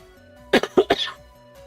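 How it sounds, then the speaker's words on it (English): A person coughs indoors in three quick, close, harsh bursts against a quiet background hum, with no talking. "I just developed the cough literally just now."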